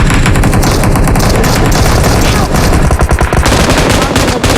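Dense automatic gunfire in PUBG Mobile, loud continuous rapid bursts of shots that fill the whole stretch with barely a pause.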